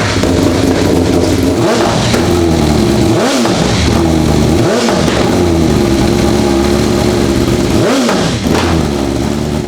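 A BMW S1000R-family sport motorcycle with its exhaust dB killer removed revs hard and close, a loud continuous engine roar broken by several sharp throttle blips and drops.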